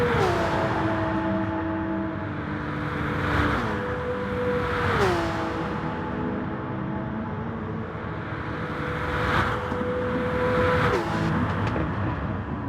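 Race cars from a racing video game slipstream down the long straights of the Tokyo South inner circuit, engines droning at a steady high pitch and dropping sharply with each upshift, several cars passing in a continuous, loud roar.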